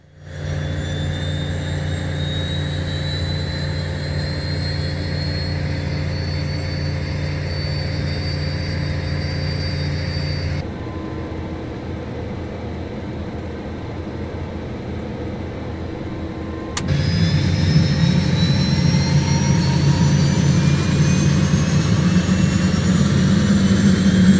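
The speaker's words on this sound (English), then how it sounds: "Right engine ignition and engine start, which is this one." A Black Square Starship twin-turboprop in the MSFS flight simulator has its right engine started, a steady low turbine drone and whine that drops briefly, then swells louder and rougher as the engine comes up to speed, with no talking.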